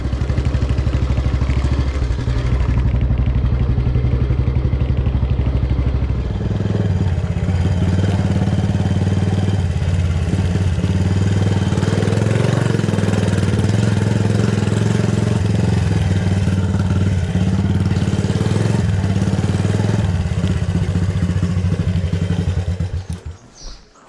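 A motorcycle engine idles close by with a steady low chugging throb, holding on for a long stretch before cutting off abruptly at the end.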